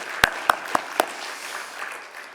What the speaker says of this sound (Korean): 우리 다시 한번 박수로 감사의 박수 전달하겠습니다